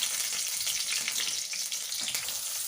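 Mustard seeds splutter in hot oil, a close, continuous fizzing sizzle dotted with rapid tiny pops and crackles at moderate loudness, with no talking.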